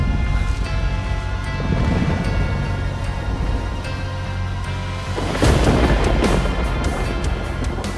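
A thunderstorm with flashing lightning under a suddenly darkened sky: a continuous loud, rumbling roar with a sharper crash swelling in about two-thirds of the way through, and no voices.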